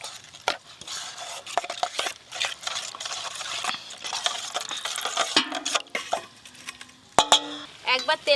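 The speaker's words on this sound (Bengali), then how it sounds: "মশলাটায় অল্প একটু জল দিয়ে গুলিয়ে নেব।" A spoon scrapes and clinks against a pot or bowl in quick irregular strokes while a spice mix is stirred with a little water for a Bengali fish dish. Someone talks over it.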